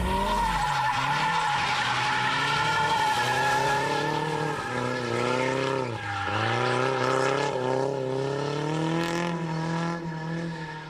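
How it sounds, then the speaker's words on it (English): A Nissan Silvia ute drift car skids through a long, continuous tire squeal over a loud, revving engine at a drift event in Australia. The screech holds steady and close for the whole stretch, with pitch dips and surges as the car slides. "Being the hottest and most radical drift car in Australia, Ignition DVD is proud to sponsor Danny's Sy"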